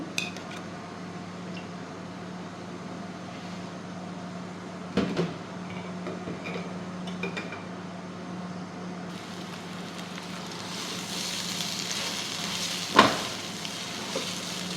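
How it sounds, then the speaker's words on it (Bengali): Rice fries in two spoonfuls of ghee, a soft continuous sizzle with occasional utensil knocks and clatter, growing a little louder and hissier in the second half. "এখন চালগুলোকে একটু ভেজে নিব। দিয়ে দিচ্ছি ঘি, 2 চামচ ঘি।"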